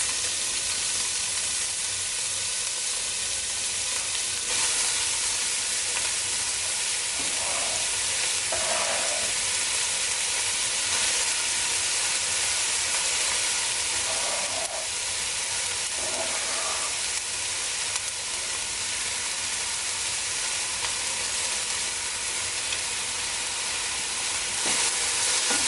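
Leeks frying in olive oil in a pan on the stove, giving a steady broadband sizzle with occasional stirring and scraping sounds throughout, close and moderately loud, with no talking.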